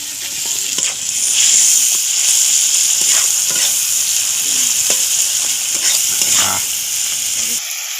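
Ginger paste with chili powder, cumin and coriander powder frying in oil in a pan, a steady close sizzle with scattered scraping stir strokes, cutting off abruptly near the end.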